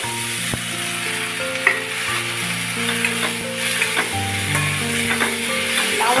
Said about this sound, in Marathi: फ्लावर छान असं परतून घेऊया